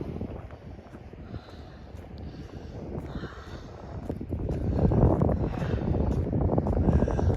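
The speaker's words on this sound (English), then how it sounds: "It's a little breezy tonight." Breezy wind outdoors on a cold 18°F night, a low rumbling buffet across the microphone that swells louder partway through and keeps blowing steadily.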